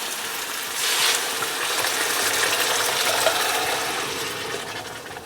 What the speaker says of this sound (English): Now in with our beans we go.